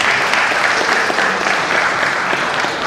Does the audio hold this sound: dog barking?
no